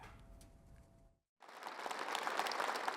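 Lawmakers in the National Assembly break into applause after a brief silence, a dense wash of clapping that swells and holds steady, preceded by a low murmur of the chamber.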